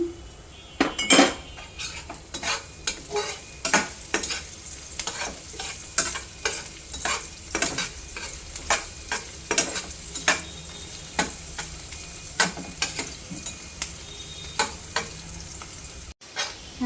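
Chopped chilies sizzle in oil in a pan for a spicy Korean-style noodle dish, with a utensil scraping and clinking in steady, repeated stirring strokes close by.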